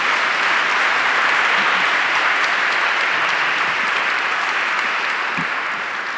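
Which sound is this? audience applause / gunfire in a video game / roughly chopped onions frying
audience applause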